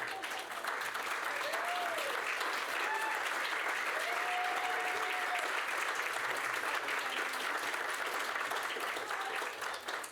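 Sustained applause from a crowd at a board of directors meeting, honoring an employee of the month, steady and full for about ten seconds with a few faint voices and whoops mixed in.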